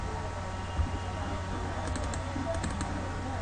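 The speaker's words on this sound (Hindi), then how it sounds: "और इंटर दबा दीजिए" Typing on a computer keyboard and pressing Enter, a few faint light clicks over a constant loud background hiss and hum.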